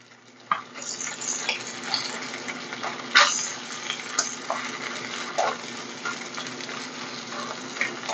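Fried rice stirred in a hot pan with a steady sizzle, broken by irregular scraping and clacking strokes of a utensil against the pan, close and moderately loud, with no talk.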